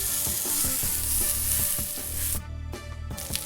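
Pork chop searing in hot oil in a pan, a loud steady sizzle with rhythmic low thumps throughout, briefly dropping quieter near the end before flaring again.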